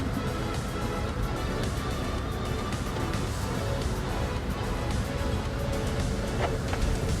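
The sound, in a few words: BMW X1 PHEV xDrive25e accelerating in sports mode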